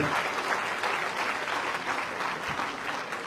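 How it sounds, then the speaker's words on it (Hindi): Loud, dense audience applause honoring freedom fighters at a flag-hoisting ceremony in Azamgarh's Hariaudh Kala Kendra, a continuous, even roar of many hands clapping at close range with no break. "आप सभी एक बार जोरदार तालियां बजाकर उन सबको बधाई"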